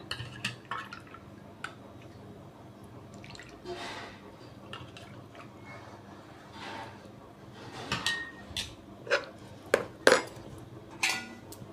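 A spoon stirs buttermilk and a pinch of salt into kodo millet porridge in a metal pot, giving soft wet swishing with scattered clinks against the rim that grow louder and quicker toward the end.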